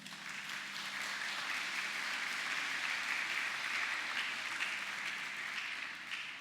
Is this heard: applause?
yes